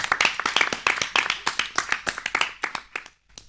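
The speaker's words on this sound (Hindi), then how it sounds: "तो एक बार हम सब की माँओं के लिए जोरदार तालियां" Audience at a children's program claps for mothers, a brisk patter of many hands close by, rapid and lively, stopping abruptly near the end.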